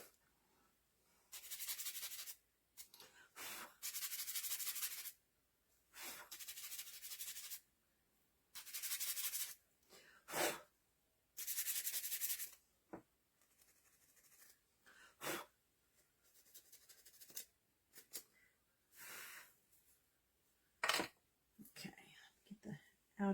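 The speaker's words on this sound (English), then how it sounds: "Sanding the little edges to distress it." Bursts of sanding on the edges of a small craft kit piece, a strawberry fairy house, with short scratchy strokes repeated in irregular clusters, close and fairly quiet, separated by pauses and whispered talk.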